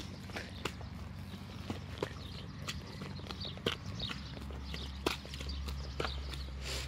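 A ridden horse walks across a waterlogged riding arena, its hooves striking in an even, unhurried clip-clop close by, faint and steady with quiet background hum and no talk.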